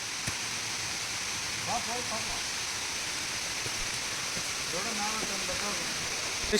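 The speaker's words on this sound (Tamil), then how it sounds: "ஃபால்ஸ் கிட்ட வந்தாச்சு. இருங்க காமிக்கிறேன் மக்களே" A jungle waterfall keeps up a steady, broad rushing roar throughout, with faint voices briefly talking over it.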